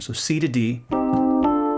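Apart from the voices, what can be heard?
No everyday noise stands out behind the speech.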